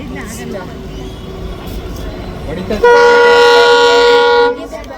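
A train rumbles into a station in Mysuru beneath people talking, then a loud, sustained horn blast sounds for about two seconds before cutting off.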